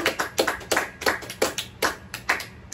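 Church congregation at Sunday worship clapping for a birthday, a handful of sharp, evenly spaced claps ringing out close and alone, roughly three to four per second.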